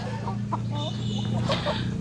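A Tiger-breed rooster and a native rooster cluck in short, scattered calls over a steady low hum, moderately close throughout.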